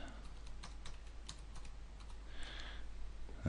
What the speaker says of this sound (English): let's type in something a little more local